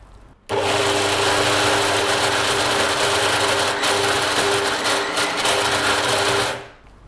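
An electric wet grinder grinding red rice batter: a loud, steady motor roar with a churning, whooshing texture starts abruptly, runs evenly for about six seconds, then winds down.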